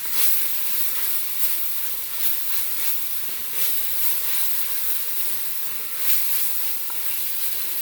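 Green seasoning sizzles and hisses steadily in a hot pot as it is stirred for goat curry, a close, continuous frying crackle with faint scraping of the mix and no voices.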